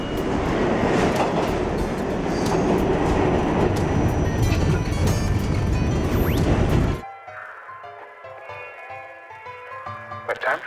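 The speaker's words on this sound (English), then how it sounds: "We were just on the A train, on our way to Brooklyn" A New York subway A train rumbles loudly along the tracks with a steady clattering roar for about seven seconds, then the noise drops away abruptly to a quieter, tonal hum with faint rattles.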